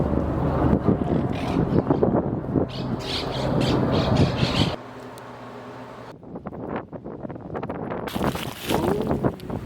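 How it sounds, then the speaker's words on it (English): Feral monk parakeets in a New York City park give loud, harsh squawks in dense bursts, close by and repeated, over windy outdoor noise, dropping off briefly midway before chattering resumes. "an analysis of the feral monk parakeets that live here"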